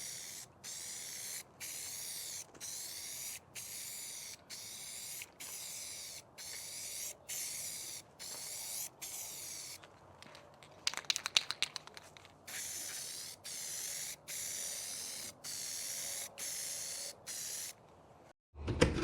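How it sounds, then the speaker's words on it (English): Automotive touch-up gloss clear coat acrylic lacquer hisses from an aerosol can in a rhythmic series of short, evenly spaced bursts, broken midway by a few clattering can-shake rattles, close and unaccompanied by speech. "We're gonna apply this Automotive Touch-Up Gloss Clear Coat, acrylic lacquer"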